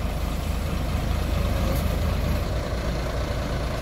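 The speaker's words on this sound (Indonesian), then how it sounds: "ini ada bus Agung Sejati masuk." A large Agung Sejati bus pulls into a terminal, its heavy diesel engine rumbling loud and steady throughout, with a faint hiss of air brakes.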